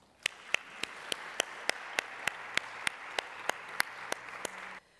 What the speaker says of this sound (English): Please join me with an applause for them.